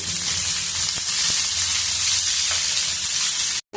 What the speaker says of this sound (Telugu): బాగా వేగిపోతాయి టమాటా ముక్కలు మనకు వేగుతూ ఉంటాయి